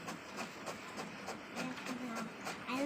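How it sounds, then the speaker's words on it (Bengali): A home printer running off pages gives a quiet, regular mechanical chatter of clicks and whirring strokes at about three per second, with faint squeaky tones underneath and no talking. "আমি আজকে অনেকগুলো প্রিন্ট করবো"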